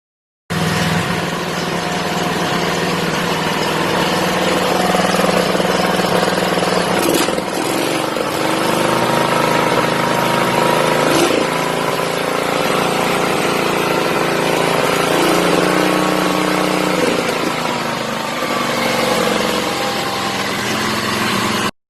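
A restored Ford 140 tractor engine runs steadily and loudly for the whole stretch, a continuous close mechanical drone with a few brief surges and no talk.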